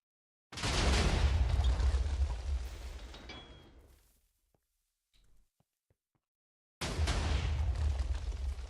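Explosions in the Minecraft video game boom out loud and close in two bursts, a long roaring blast that fades over about three seconds, then a second blast after a short near-silent gap with faint small pops.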